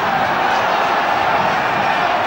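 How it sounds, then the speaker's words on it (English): A West Ham football crowd in a 1975/76 match against Everton roars steadily behind their team, making a dense, unbroken wash of chanting and cheering that stays loud throughout. "West Ham crowd again getting behind their team."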